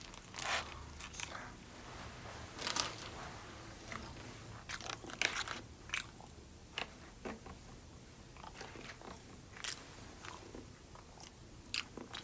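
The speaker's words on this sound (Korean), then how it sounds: "체다 치즈를 한번 먹어보도록 하겠습니다" Someone bites and chews cheddar cheese topped with sauce, producing scattered close crunches and soft wet chewing sounds in irregular bursts against a quiet background.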